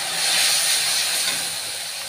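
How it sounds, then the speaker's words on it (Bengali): Mango pieces frying with turmeric, chilli powder, cumin paste and a splash of water, a loud, dense, continuous sizzling hiss, close and unbroken throughout. "এবারে হলুদ গুঁড়ো, লঙ্কা গুঁড়ো, আর হচ্ছে যে জিরে বাটা দিয়ে একটু সামান্য জল দিয়ে কষিয়ে নেব।"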